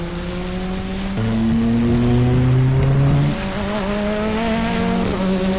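Race cars roar through a Grid World Series video game race, several engines whining and shifting pitch together in a loud, steady pack with no voices over them.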